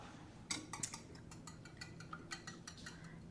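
Six eggs are whisked in a bowl: quick, irregular clinking taps of a utensil against the bowl, fairly faint and close, with no talking.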